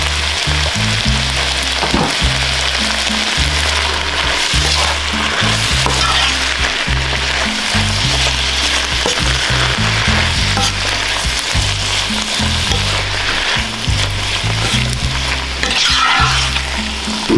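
Ground meat frying in a pan with red seasoning and salt, a loud, steady close-up sizzle with occasional stirring scrapes and no talking.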